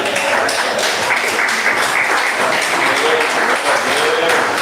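Loud, continuous clapping from a church congregation, dense and close, with voices mixed in throughout.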